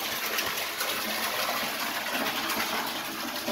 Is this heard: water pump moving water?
yes